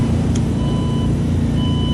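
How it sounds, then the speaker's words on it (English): A large vehicle backing up in a parking lot sounds repeated reversing beeps, evenly spaced tones ringing over a loud steady rumble of background noise. "We got a beep going. There's something big backing up in the parking lot."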